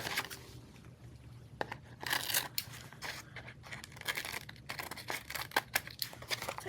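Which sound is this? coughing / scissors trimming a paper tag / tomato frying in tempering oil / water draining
scissors trimming a paper tag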